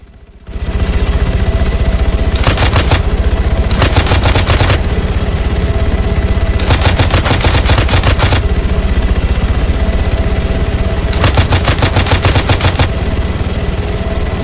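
Heavy DShKM machine gun fires in ArmA 3 in several long bursts against a constant loud engine drone, with the bursts coming close together and sounding near.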